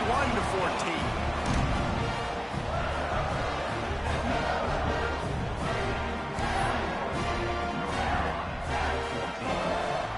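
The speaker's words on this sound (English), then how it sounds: "this crowd is buzzing after that last score" A packed stadium crowd at an American football game roars and buzzes steadily after a touchdown and extra point, a loud dense wall of voices that stays constant throughout, with a commentator talking over it.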